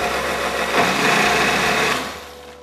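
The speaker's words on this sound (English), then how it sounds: "you want to blend this for 2 minutes straight" A kitchen blender whirs continuously while blending a mixture, a steady loud motor drone that holds evenly for a couple of seconds before easing off.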